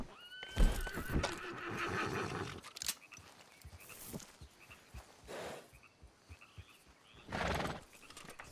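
Horse neighing and whinnying over hooves clip-clopping in the video game Red Dead Online, with a loud whinny at the start and another near the end, broken by bursts of clatter.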